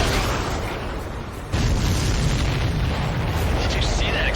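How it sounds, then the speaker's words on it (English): A missile-hit supply ship explodes in the Ace Combat 7 flight game as a loud, sustained roaring blast with a heavier surge partway through and continuous rumble, while a voice is faintly mixed in. "Did you see that explosion?"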